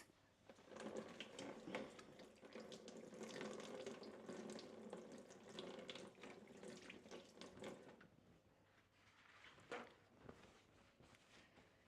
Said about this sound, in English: I'm just gonna rinse my hands quick